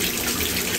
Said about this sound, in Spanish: ahora nada más pongo el agua a como me guste, tibiecita